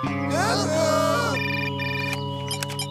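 An electronic telephone in a French Titeuf cartoon rings with a warbling, musical tone that is loud and close, running steadily for several seconds over a sustained background.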